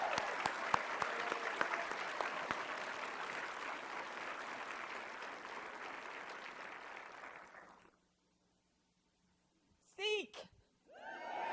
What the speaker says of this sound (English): I'd like you to give a big round of applause to Dr.